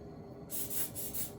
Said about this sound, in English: I just go in and spray